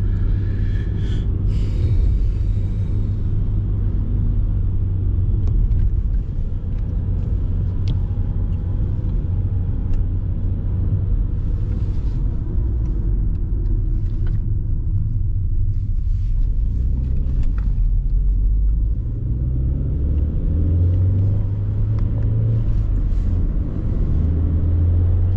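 A car engine rumbles low and steady from inside the cabin while driving and speeding up through a built-up area, with tyre and road noise underneath and no talking.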